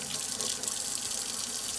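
Tap water runs steadily into a sink while mushrooms are scrubbed clean with a small brush, making a close, bright, continuous splashing hiss with no talk.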